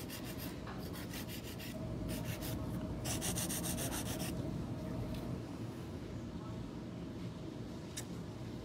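An 80/80 grit nail file scrapes across an acrylic nail in quick rasping strokes, close and fairly quiet, with short bursts of rapid back-and-forth filing over a steady background hum.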